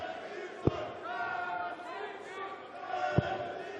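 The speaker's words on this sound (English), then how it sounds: "Crowd trying to get behind Chizzy and Nilsson. Pockets of fans for both players." Crowd noise at the 2017 International Darts Open, round 3 match between Nilsson and Chisnall, with scattered fans cheering for both players as a steady murmur, broken by two sharp thuds.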